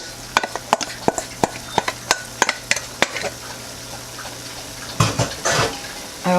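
Strained pasta and tempeh stirred in a pan, a quick run of sharp utensil clacks against the pan in an even rhythm, followed by a softer scraping, sizzling stir.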